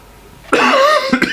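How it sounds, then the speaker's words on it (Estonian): A single sharp, loud cough from a man bursts out after a quiet moment, with a brief throaty follow-up at the end. "mul on see köha kuidagi täna alles tulnud"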